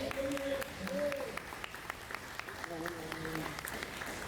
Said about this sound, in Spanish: Denle aplauso a Cristo.